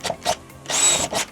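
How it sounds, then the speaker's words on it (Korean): Power drill boring several holes for rivets, heard as a series of short, close whirring bursts separated by brief pauses, the last burst longer and steadier. "리벳알을 받기 위해 구멍 몇 개를 뚫어줘 볼게요."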